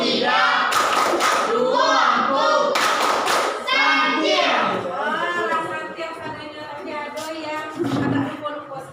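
Children in a group chant and clap the tepuk santiang routine, sharp claps in quick bursts over energetic voices, fading to quieter chatter near the end.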